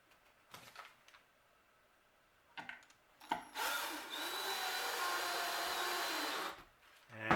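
A power drill drives trim head screws into a wooden bat house kit: a few short handling knocks, then a sustained whirring drive of about three seconds, and a brief final burst.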